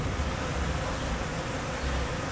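Bees buzz around a boat, a dense, continuous drone of many insects close by, loud and steady throughout with no speech.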